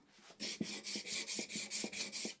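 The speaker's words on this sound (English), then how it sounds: "Now hear that little rocking sound? That's my bench slightly out of square or out of flat." A chisel rubbed back and forth on a sharpening stone at a bench that is slightly out of flat, a steady rasping scrape in even strokes with faint knocks as the bench rocks, close and alone.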